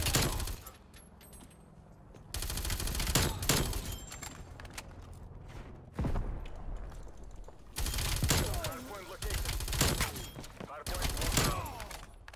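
Rapid Vargo 52 rifle fire in the video game Call of Duty: Cold War comes in repeated loud, dense bursts separated by brief quieter gaps, with game effects layered around the shots.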